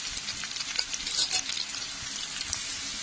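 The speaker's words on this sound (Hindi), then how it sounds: "लाल कर लेंगे कांदा को।" Onion sizzling in hot oil in a pan for rajma curry, a dense steady crackle with occasional stirring scrapes, close and continuous with no talk.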